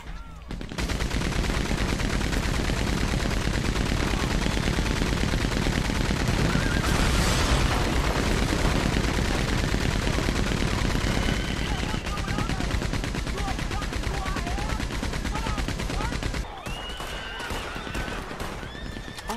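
Dense, continuous minigun fire roars in Red Dead Redemption 2, loud and sustained for most of the stretch, with horse whinnies and hoofbeats mixed in before the firing drops away near the end.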